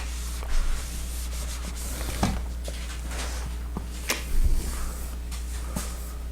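Marker or chalk rubs and scratches across a board as a map of Asia is sketched, quiet scraping strokes with occasional taps over a faint steady hum.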